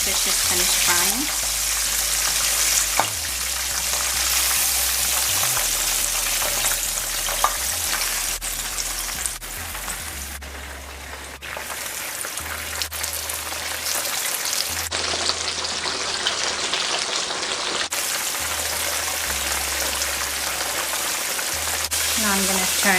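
Kalonji sizzles steadily in a hot frying pan for a Guyanese meal, a dense continuous crackle and hiss with occasional stirring scrapes and no talk.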